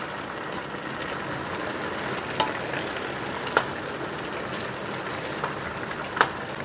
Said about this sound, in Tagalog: I-add na natin itong sitaw. Okay. So, i-mix lang natin.